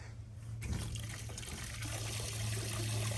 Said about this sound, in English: There's still water leaking there.